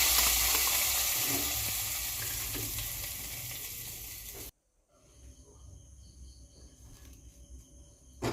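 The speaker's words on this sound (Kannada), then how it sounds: "ಗ್ಯಾಸ್ ಬಂದ್ ಮಾಡಿ ಒಗ್ಗರಣೆ ಹಾಕಿ ಬಿಡುವುದು ಒಗ್ಗರಣೆ ಕಾಡ್ದು ಬಿಡ್ತೀನಿ" Hot tempering (oggarane) hisses and sizzles loudly as it is added to a Mangalore-style fish curry, a close, dense frying sound that cuts off abruptly midway, leaving faint kitchen noise.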